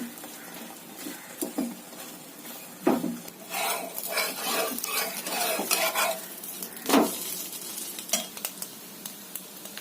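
An egg omelette sizzles in a pan beside chapati, with frequent scraping and clinking of a spatula against the metal over a steady close frying hiss, and nobody speaking.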